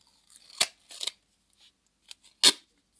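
Scissors cut through sticky duct tape in a few sharp, crisp snips, spaced irregularly with brief rustles between them. The sound is close and fairly quiet, with no talking.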